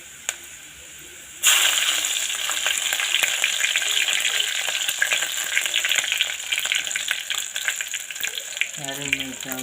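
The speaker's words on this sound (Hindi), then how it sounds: "ये तड़का लग गया।" Loud, steady sizzling and crackling of spices, green chilies and whole dried red chilies frying in hot oil for a tadka, starting abruptly and continuing throughout, with a voice speaking briefly near the end.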